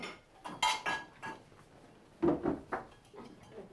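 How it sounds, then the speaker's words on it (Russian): Dishes being cleared away: clinks and clatters of plates and cutlery come in uneven bursts, some sharper and closer, against a quiet room background with no speech. "Да ты посуду всю убирайте"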